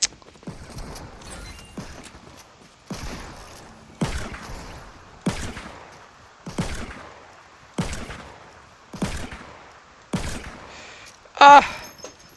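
About nine gunshots come from a weapon in a no-build 50-versus-50 Fortnite match. They fire singly at a slow, steady pace, each one a sharp crack with a short decaying tail, and a brief louder burst comes near the end.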